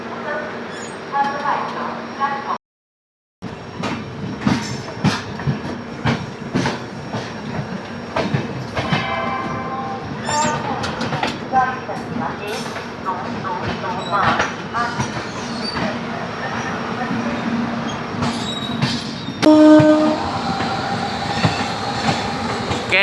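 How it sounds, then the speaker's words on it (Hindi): Kaifiyat Express from Azamgarh to Delhi pulling into Ghaziabad station early in the morning, a steady loud rumble and clatter of passing railcars with wheel squeals and clicks, a short break, then a horn-like tone near the end. "आजमगढ़ से चलकर दिल्ली जाने वाली कैफियत एक्सप्रेस आ रही है सामने से।"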